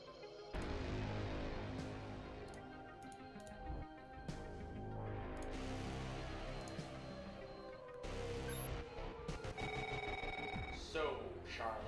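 A telephone rings in the video game Neofeud, its bell tones repeating steadily over a dense backdrop of game music and voice-like sounds that continue through the whole stretch.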